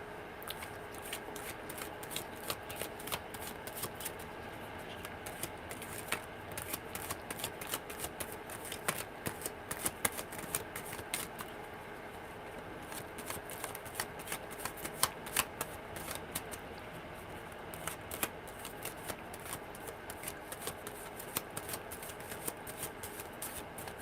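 Tarot cards shuffled by hand in a long run of quick, crisp riffles and soft slaps, close and fairly quiet, with no talking.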